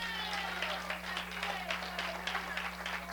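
A congregation claps together at a church prayer service, a steady, dense wash of applause that fills the whole moment without letting up, moderately loud and slightly distant.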